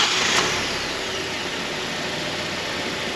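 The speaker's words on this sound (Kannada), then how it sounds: "ನೋಡಿ, ಇಂಜಿನ್ ಸ್ಟಾರ್ಟ್ ಆಯ್ತು ಈಗ" A Kia Sonet HTK+ or HTX with a push-button start idles at a steady, moderate hum right after starting, with a brief bump near the beginning and no talk.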